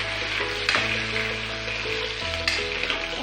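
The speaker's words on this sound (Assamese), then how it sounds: "ধুনীয়াকৈ ভাজি ল'ম ৰঙচুৱাকৈ" Bay leaves and spices fry in hot oil in a pan with a continuous close sizzle, broken by a couple of sharp stirring clinks and pan scrapes.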